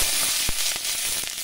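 Chopped onions frying in mustard oil with whole cumin seeds, a loud close hiss of sizzling with a couple of sharp pops and crackles over a short burst.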